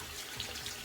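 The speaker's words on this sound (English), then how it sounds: "So I have to run some water for a couple seconds here." A bathroom sink tap runs water into the basin for a cold rinse during a wet shave. The flow is a steady, soft hiss that holds evenly, fairly faint, with no voices.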